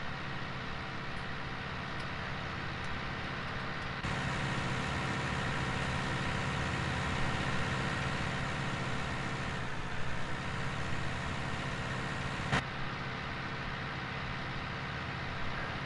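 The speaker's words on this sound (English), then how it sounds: "It's not the quickest tractor, but it gets the job done and has a good bit of horsepower" A tractor engine runs steadily in the Farming Simulator 19 video game, a continuous droning rumble at an even idle-like pace, held for about sixteen seconds with no voices.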